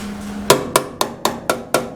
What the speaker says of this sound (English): You saw me hammering all this up.